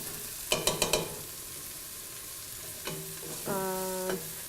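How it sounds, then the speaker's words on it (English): Mushrooms frying in a pan give a soft, steady sizzle, broken by a quick run of four spoon taps early on and then a longer scraping stir. "Give those a stir."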